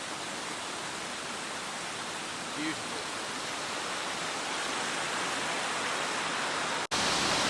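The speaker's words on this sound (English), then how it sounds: "That there is 220 feet to the Lady Exmouth Waterfall" Lady Exmouth Waterfall at Canonteign Falls in Devon, a 220-foot cascade, roars in a steady broadband rush of falling water that fills the whole clip, with one brief spoken word over it.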